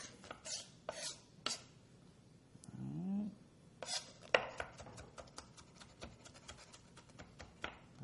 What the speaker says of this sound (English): you can just do it like we're doing and just chop this stuff up and put it in a bowl and mix it